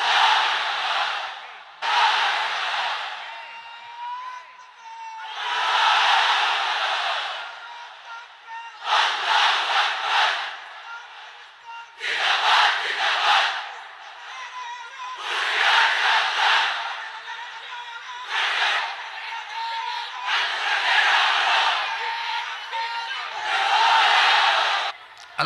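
A large crowd packed inside a pandal roars the takbir in unison. The chant comes in repeated loud bursts of massed voices, each separated by a brief lull, and the volume stays strong throughout.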